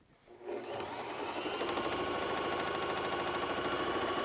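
A Bernette 33 mechanical sewing machine starts up and runs at a steady stitching pace, its fast rhythmic whir continuing evenly and close by with no talking.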